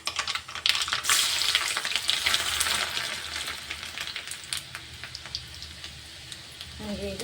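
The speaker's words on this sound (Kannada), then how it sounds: "ನೋಡಿರಿ ಸಾಸಿವೆ ಜೀರಿಗೆ ಚೆಂದಾಗಿ ಚಟಪಟ ಸಿಡಿಲಿರ್ತಾವೆ ರೀ" Mustard seeds, cumin and garlic sizzling in hot oil, a close, busy crackle of popping seeds over a constant fry hiss that is loudest early and eases slightly later.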